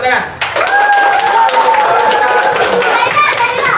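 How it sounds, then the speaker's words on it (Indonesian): Hands clap in rapid rhythmic bursts during a group teacher-training session, mixed with loud voices chanting or singing over the top. "Nah, itu tepuk tangan."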